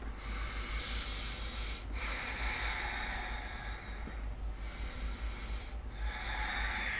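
Slow, deep breaths during a power yoga flow, drawn in steady, long cycles with brief pauses between them, close and fairly loud, with no talking.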